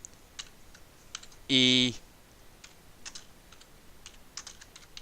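Keys clatter on a computer keyboard in scattered, light taps, with one brief loud burst partway through, close and fairly quiet, while a voice speaks briefly.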